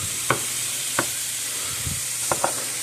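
Ground beef frying in a pan as it is broken into smaller pieces, a steady close sizzle with a few sharp scraping taps from the utensil spaced irregularly, and no talking.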